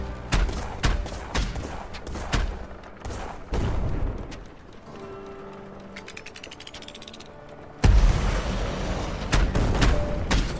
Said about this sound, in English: Decent range on those torpedoes.